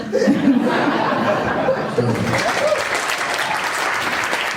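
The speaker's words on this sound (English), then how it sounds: "You knew they were going to give you that applause" A studio audience applauds guest actress Tonya Williams, loud, sustained clapping mixed with laughter and chuckles, a voice talking over the start before the clapping carries on alone.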